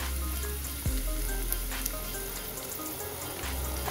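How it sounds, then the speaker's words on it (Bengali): Capsicum and chopped onion fry in a little oil, producing a close, continuous crackling sizzle with occasional stirring scrapes and a brief low thump. "এরপরে আমি অল্প তেলে ক্যাপসিকামটা আগে থেকে একটু ভেজে নিলাম এবং তার সাথে আমি পেঁয়াজ কুচিটা দিয়ে দিলাম"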